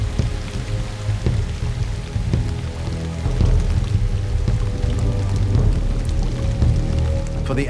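Heavy rain pours steadily onto soil and ground cover in a dense, continuous hiss with scattered individual drop impacts, loud and close, with no voices.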